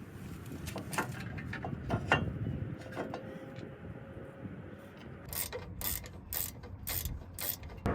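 Ratchet wrench clicks while brake calipers and rotors are bolted onto a lifted Toyota GX460, with a rapid burst of loud ratcheting near the end over a busy garage background.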